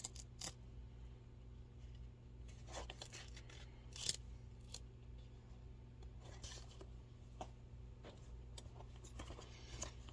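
Scissors snip in sparse, sharp clicks against near silence while old dress shoes are restored, a few cuts spaced seconds apart, close and quiet.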